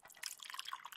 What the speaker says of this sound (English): A glass beaker. Pour the hydrogen.